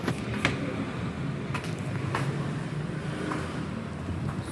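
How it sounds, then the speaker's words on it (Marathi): A vehicle approaching head-on along a village road, a steady mid-distance engine and road rumble that holds throughout with a few brief sharper noises over it. "समोरून गाडी येत आहे"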